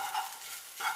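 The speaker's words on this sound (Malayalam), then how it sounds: "അതുപോലെ നമ്മളിങ്ങനെ ഇളക്കി കൊടുത്തുകൊണ്ടിരിക്കണം." A spoon stirs chicken cutlet masala in a hot pan, giving two bursts of scraping and sizzling, one at the start and one near the end, with a quieter pause between them and no voices.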